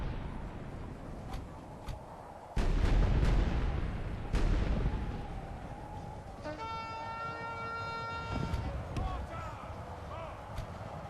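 Cannon fire in the Medieval 2 Call of Warhammer mod for The Empire, with a few heavy booms standing out from a dense, continuous battlefield din and a siren-like tone rising midway.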